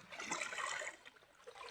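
River water flows and splashes steadily at a bathing spot, a close, rushing and gurgling wash that eases slightly toward the end, with no talk.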